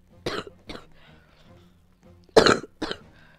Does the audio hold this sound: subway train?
no